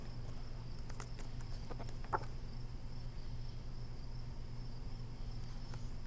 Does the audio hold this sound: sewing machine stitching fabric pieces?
no